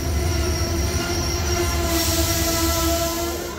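Train wheels squeal on the rails near Constanta, with sustained high metallic tones over a loud rolling rumble of passing wagons, continuous and close, with no voices.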